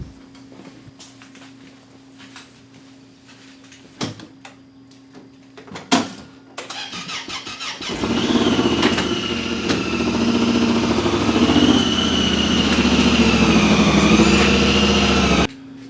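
A Honda Pioneer 1000-5 side-by-side starts up and pulls into a shop, its engine idling and running steadily and fairly close for the last half after a few door-like clunks and thumps.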